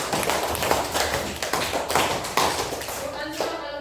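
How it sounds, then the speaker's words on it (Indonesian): Students in a classroom clap their hands during a lesson, a fairly close burst of uneven claps and taps running for several seconds, with voices mixed in. "Oke, tepuk tangan dulu."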